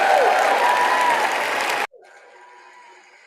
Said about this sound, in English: he got a huge amount of applause with the fire Fauci comment